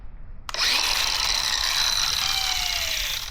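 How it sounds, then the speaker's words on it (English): Angle grinder cutting into metal before welding, starting abruptly after a half-second of low rumble, then a loud, sustained high-pitched whine that holds steady to the end. "I'm gonna go back to grinding now."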